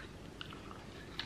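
Crunchy food is chewed at a seafood boil mukbang, with faint, crisp bites clicking twice at close range over a soft background hiss.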